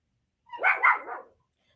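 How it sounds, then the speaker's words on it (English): Dogs bark indoors at home, a quick run of two or three close, loud barks packed into about a second with brief yelping edges. "Woo, these dogs."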